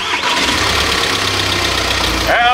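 A Volkswagen T5 van engine cranks and catches, settling into a steady, loud mid-pitched running note close by, with no talk over it.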